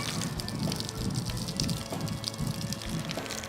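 Water splashing and gushing continuously at close range, a dense broadband wash with repeated small bursts and drips, steady and fairly loud with no voices.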